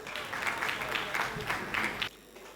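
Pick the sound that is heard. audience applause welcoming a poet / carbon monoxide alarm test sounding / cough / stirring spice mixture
audience applause welcoming a poet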